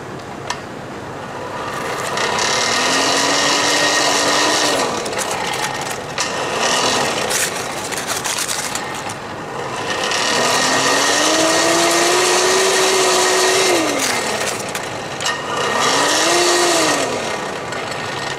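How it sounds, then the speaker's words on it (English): Improvised blower pushing air into a forge fire pot, a loud close rushing roar with motor whine that swells and sags in pitch over several cycles, separated by brief dips, no talking. "Put this blower up here and see if I can simulate the blower action."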